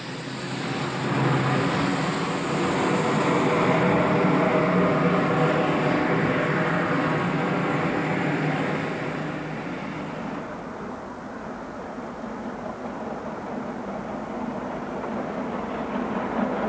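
GWR King class steam locomotive 6024 King Edward I passes as a steady loud rolling rumble of wheels and motion with a high hiss, fading somewhat after the first half as it draws away.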